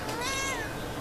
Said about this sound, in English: Yeah, that's Mama Cat.